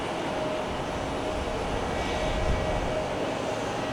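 Southwest airliner jet passing at Cleveland Hopkins airport, a steady broad engine roar heard from a distance, swelling slightly midway with no talk.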